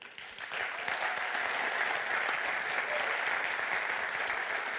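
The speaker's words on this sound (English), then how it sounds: "I think we can clap them all again" Sustained applause fills an award ceremony hall for European mobility finalists and winners, a broad even wash of many hands clapping that swells after a brief softer start and holds steady.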